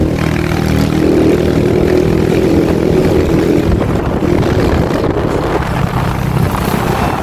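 A Honda Beat scooter engine revving with a new TPS fitted, giving a loud, steady motor roar that runs without break for several seconds, close to the microphone.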